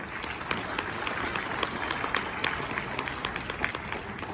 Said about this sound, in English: So can we clap once again for all the students here?